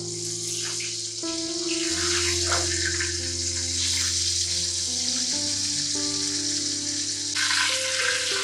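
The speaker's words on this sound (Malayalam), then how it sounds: "അപ്പോൾ നമ്മുടെ ചിക്കൻ ഇവിടെ ഫ്രൈ ആയി വന്നിട്ടുണ്ട്." Chicken pieces frying in coconut oil for Kerala-style fried chicken biryani, a steady close bubbling sizzle that carries on without pause, with faint clinks over it.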